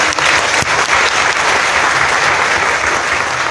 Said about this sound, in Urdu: ایک دفعہ زوردار تالی بجائیے